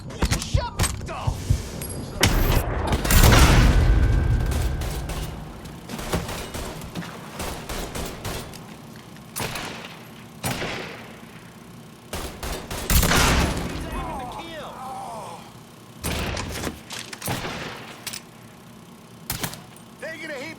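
Bursts of gunfire in the video game Mafia 3, some sustained fusillades and scattered single shots, loud and close, mixed with vehicle noise and shouting voices throughout.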